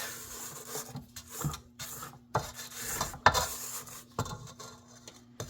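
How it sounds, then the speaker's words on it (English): Intermittent scraping and rubbing strokes against a mixing bowl of pound cake batter, irregular and close, with a few sharper scrapes among the softer passes. "We're gonna go ahead and scrape down before we add our final 2."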